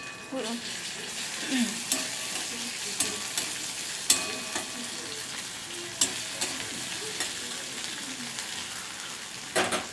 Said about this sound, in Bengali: এবার আমি এখানে হাফ চামচের মতো আদা রসুন বাটা দিলাম